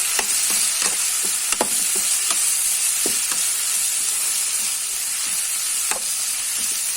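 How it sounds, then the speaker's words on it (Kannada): Cumin seeds sizzle in hot oil while tempering for jeera chicken sukka, a steady crackling fry with repeated sharp clicks of a spoon stirring the pan, close and continuous. "ಒಗ್ಗರಣೆದ ಪ್ರೊಸೆಸ್ ಆಂಡಡೆ ಲಾಯ್ಕ್ ಮತ್ತೊಂಚೂರು ಫ್ರೈ ಆವಡಂದು"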